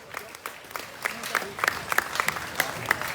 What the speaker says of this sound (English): Let's give all these exhibitors a great big round of applause